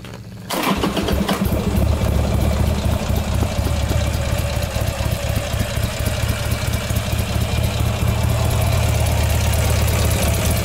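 A quad ATV with 13,000 miles cranks and catches, then settles into a steady, even idle that runs loud and close without a break.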